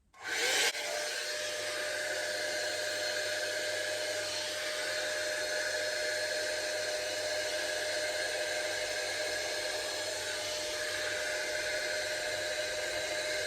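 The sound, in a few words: Dyson Airwrap dupe smoothing hair tool blowing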